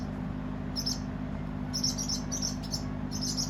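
Starlings chirping in short high bursts as they fly around near a post outdoors, faint and intermittent over a steady low hum of background noise.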